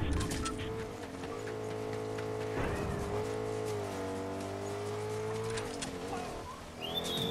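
A car engine in the Fortnite video game drones with a steady harmonic hum that rises and dips as it revs, continuous and fairly close.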